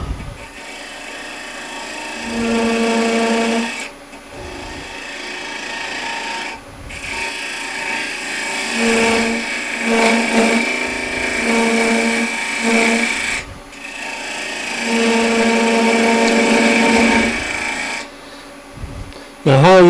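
A heavy 750 kilogram wood lathe turns a long yarn bowl blank overhanging the chuck, giving a steady rasping, scraping cut in repeated passes of a few seconds each, with short pauses between them.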